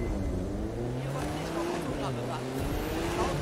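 Porsche race car in The Crew 2 driving game, a steady engine drone with shifting tones and brief rising revs, loud and continuous throughout.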